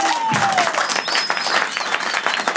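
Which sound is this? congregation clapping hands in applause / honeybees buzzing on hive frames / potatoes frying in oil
congregation clapping hands in applause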